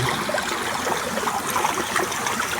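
Water pours steadily into the sarovar pool at Gurdwara Damdama Sahib, Jandali Khurd, a continuous close splashing and trickling rush with no pauses.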